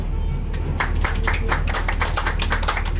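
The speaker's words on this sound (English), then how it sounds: "scoring the spontaneous round of applause before we even left the parking lot" A round of applause from passengers aboard a tour trolley, steady rapid clapping over a constant low engine rumble, fairly close and sustained throughout.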